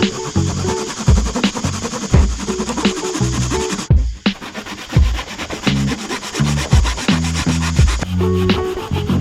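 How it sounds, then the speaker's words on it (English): A hand saw cuts a piece of timber to make a fishing lure template. Rapid, close, rasping back-and-forth strokes keep a steady rhythm, with a brief break partway through. "We'll get the saw and I'll just run"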